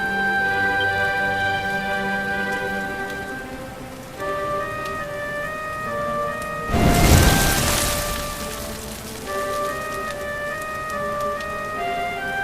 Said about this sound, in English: Looks like the rain's dying down